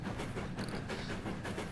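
LMS Class 4F steam locomotive running downhill in Train Sim World 4, a steady loud rumble of wheels and rolling stock with faint rhythmic clatter throughout, no talk.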